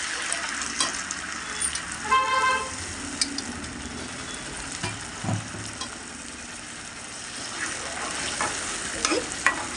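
Three blended tomatoes sizzle in hot oil in a pan, a steady frying hiss broken by scraping stirs and scattered clinks.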